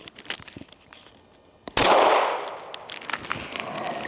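A single sharp pistol shot from an H&K VP9A1K at a shooting range, loud and close, its blast ringing out and decaying over the next second or two above a noisy outdoor background.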